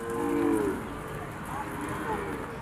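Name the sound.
cattle mooing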